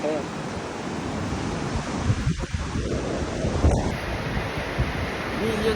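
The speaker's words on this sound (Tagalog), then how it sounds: "Grabe alon guys no" Ocean surf at Enoshima, Japan washes in as a steady broad roar mixed with wind buffeting the microphone, loud and continuous, with no voices.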